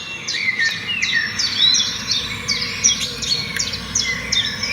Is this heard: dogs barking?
no